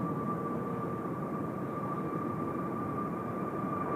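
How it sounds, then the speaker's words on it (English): An Airbus A321neo airliner passes at Incheon airport as a steady, distant roar with a sustained whining tone running through it, holding at an even level throughout. "In the meantime, Beijing bound A321 Neo."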